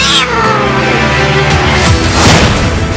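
A domestic cat meows loudly and close by, one drawn-out cry standing alone with no talk over it.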